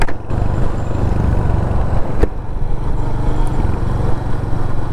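A motorcycle ridden through forest on a road trip from Bengaluru to Kerala produces a loud, continuous engine drone with rushing noise and one brief sharp knock midway, with no speech.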